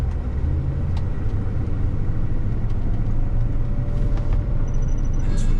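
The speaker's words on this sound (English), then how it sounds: "The engine's very smooth. You can feel a slight lope. It is almost a 7-liter V8." A 1979 Mercedes-Benz 450SEL 6.9 with its almost 7-liter V8 drones steadily while driving, a smooth low rumble with a slight lope that stays even and constant throughout.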